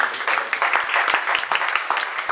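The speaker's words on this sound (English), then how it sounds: "Give her a round of applause." Audience applause at a tech entrepreneurship leadership council kickoff event, steady dense clapping from a room of people lasting a couple of seconds.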